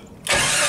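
A Jeep Wrangler YJ engine catches and roars to life after a short quiet moment, jumping to a loud, steady running sound up close.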